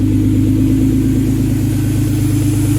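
A 1999 Isuzu Trooper with a freshly installed replacement engine runs steadily at close range, a constant low, even drone with a regular pulsing beat, heard alone with no voices.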